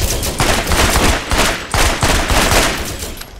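An assault rifle fires in Borderlands, with several loud, rapid bursts of video game gunfire following one another closely and no gap of quiet between them.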